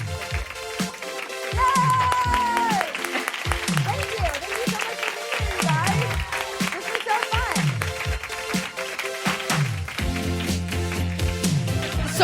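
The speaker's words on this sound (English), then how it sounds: "So one more round of applause for them" Live podcast audience clapping at the close of a show, a loud sustained patter of many hands under music with punchy low beats, lasting the whole stretch.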